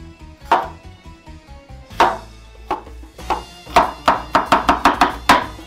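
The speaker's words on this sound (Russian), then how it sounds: "Берем 200 грамм болгарского перца и нарезаем его кубиками." A knife chops through bell pepper, cutting it into cubes on a cutting board, sharp close thuds at first spaced out, then a quicker run of regular cuts.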